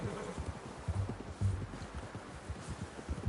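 Horse hooves clip-clop at a steady walking rhythm in Red Dead Redemption 2, moderately close and fairly quiet, with a soft bed of ambient game noise beneath and no talk.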